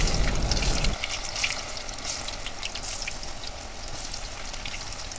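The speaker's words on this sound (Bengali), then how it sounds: "এখন আমরা সবজি পাকোড়াগুলো তেলের মধ্যে দিয়ে ভেজে নিব" Vegetable pakoras, shaped into round balls, deep-frying in hot oil, giving a continuous bubbling sizzle with fine crackles, louder for the first second and then settling into a steady hiss.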